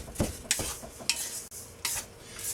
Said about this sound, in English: So we got our nuts, our bread, our flour, and we just want to mix it nice.